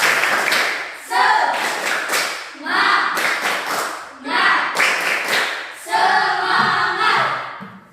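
Indonesian classroom cheer clapping, a class beating out a patterned rhythm in repeated bursts separated by short pauses, loud and close, with voices chanting along in places.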